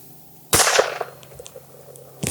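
A single sharp report from an 1885 Winchester rifle firing small-calibre rounds, a loud crack with a short decaying tail, then a second shot beginning at the very end; no talk.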